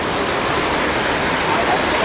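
A waterfall near Bisibis Falls in Mauban, Quezon, swollen in the rainy season, making a loud, steady broadband roar that fills the scene up close, with a voice speaking over it.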